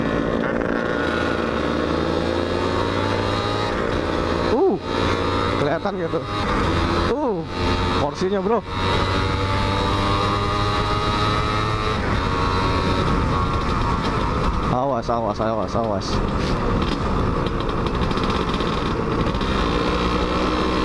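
A Suzuki Satria 120 R two-stroke motorcycle engine drones loudly and continuously while being ridden on a quiet road at night, its pitch rising and falling with gear changes as the rider talks briefly over it.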